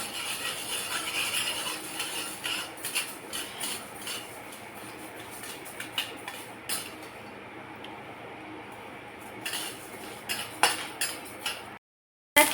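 Continuous crackling and popping of flax seeds roasting in a pan over low heat, with scattered scraping and metallic clinks of stirring, ending in a brief silence.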